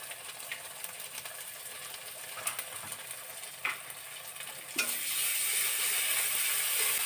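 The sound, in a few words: ginger and garlic paste sizzling while being fried and stirred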